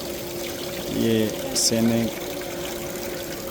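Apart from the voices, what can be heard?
waterfall at Imam Raza shrine, Mashhad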